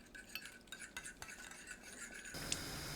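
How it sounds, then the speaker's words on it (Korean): Eggs, fine salt, pepper, green onion and carrot being whisked in a bowl, with quick, irregular clicks and scrapes of a utensil against the bowl, close and fairly quiet. "파, 당근 넣고 섞어줍니다."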